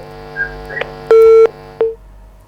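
A telephone call connects during a live TV phone-in: a few short dialing tones, then a steady held ringback tone, a brief gap and another short tone, all clear and loud with no talk.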